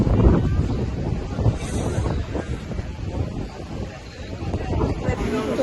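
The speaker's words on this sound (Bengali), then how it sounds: "প্রচণ্ড সুন্দর হাওয়া দিচ্ছে।" Strong wind buffets the microphone at a Ganges riverside ghat in the evening, a steady roaring rush that swells and eases throughout, with faint voices mixed in.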